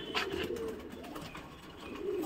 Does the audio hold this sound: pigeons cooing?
yes